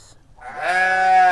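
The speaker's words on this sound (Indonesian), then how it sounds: "Suara kambing gede, kenceng banget suara kambing, guys." A large goat lets out one loud, close, drawn-out bleat that swells after a brief quiet start and holds steady to the end, with no talk over it.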